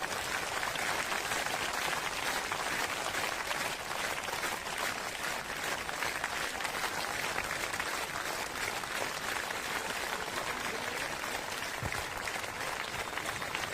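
Sustained clapping from a large audience at a Gujarati devotional hymn session fills the space with a thick, unbroken wash of hand claps. The clapping keeps a steady loudness from start to finish, with no talk rising above it.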